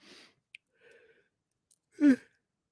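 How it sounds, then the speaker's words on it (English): A short, loud vocal burst that blends a sneeze with a yawn, preceded by faint breaths and a small click in otherwise quiet surroundings. "I had to sneeze and yawn at the same time"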